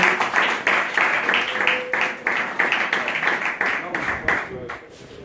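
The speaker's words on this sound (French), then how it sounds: "Acclamons le président." An audience at a talk on the law of attraction applauds the president with steady, dense clapping that keeps up evenly for several seconds, loud and close, then fades slightly toward the end.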